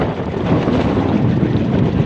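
A steady wash of water and engine-like rumble, as from a boat moving across open water, with wind noise on the microphone throughout.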